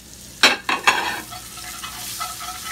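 Onions tossed into a hot pan for Salisbury steak gravy, three sharp scraping stirs up front, then a steady close sizzle of frying.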